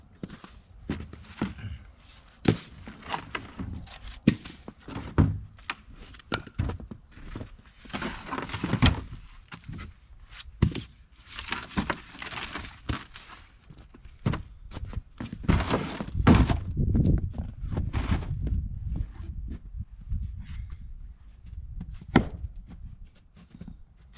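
Birch rounds split with a splitting maul outdoors, heavy wooden thunks and cracking chops repeating at an irregular pace, close and loud, with scattered pieces clattering between strikes.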